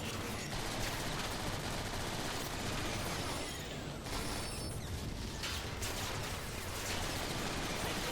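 A photon burst rifle firing in Transformers War for Cybertron, dense loud repeated bursts of mechanical sci-fi shots with clanking action, continuous throughout.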